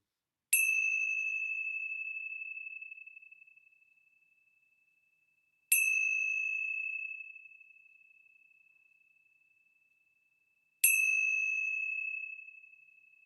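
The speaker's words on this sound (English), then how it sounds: "let's begin our time with the ringing of the bells" A clear bell rings three times at slow, even intervals, each tone sustaining and fading gradually in silence.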